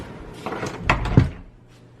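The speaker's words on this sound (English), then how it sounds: "And I'll just leave the room and close the door." An indoor room door swings shut with a muffled thud and short rattle, close by and alone, leaving quiet afterward.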